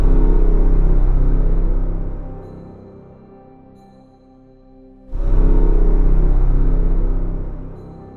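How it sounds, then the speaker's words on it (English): Twenty contrabasses play a thick, heavy, dark sustained chord that swells, dies down to a quieter lull, then returns loudly with a strong low attack and holds, with no talk over it. "This is the sound of 20 contrabasses."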